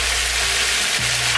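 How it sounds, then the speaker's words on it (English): Chopped fresh tomatoes hit a frying masala pan for a vegetable biryani, a loud, close, continuous hiss of sizzling oil over a brief moment. "we're going to go in with fresh tomatoes, chopped"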